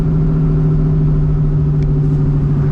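1997 Ford Mustang Cobra engine at wide-open throttle holds a loud, steady, deep drone from inside the car, a constant heavy rumble with a strong low hum and no talking.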